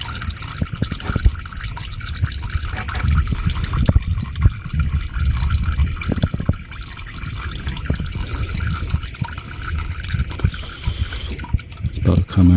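Engine oil drains from the drain plug of a Lexus IS350-type car in a steady trickling, dripping pour, close and continuous, with occasional handling knocks.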